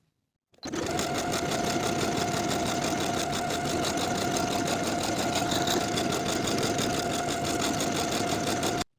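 A sewing machine stitches buttonholes into the placket of a denim jacket, a loud, continuous rapid whirring and clatter running close and unbroken for over eight seconds.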